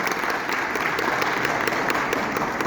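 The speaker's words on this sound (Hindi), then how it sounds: "तो तालियां बजा दो" An audience at a housing project launch for a Gurgaon township claps steadily, giving a dense, even burst of applause with no talk.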